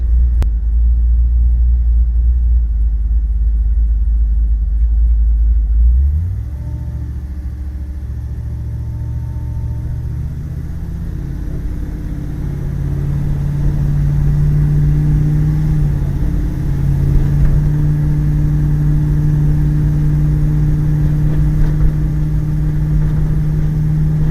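A 1976 Chevrolet Impala wagon on 26-inch wheels rolls along a bumpy road, its engine a steady low rumble that shifts pitch as it accelerates, with a continuous droning hum from inside the cabin.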